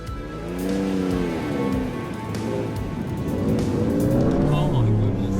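A Ford Raptor tears across sand dunes, its engine roaring loud and close in a steady, rising drone with shifting pitch as it accelerates, while voices talk over it.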